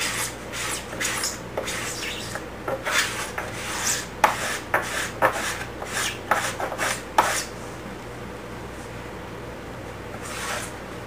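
A hand scraper works along the side of a wooden guitar kit body, making a series of short, rasping strokes, some quick and some drawn out, close by and alone before a quiet pause.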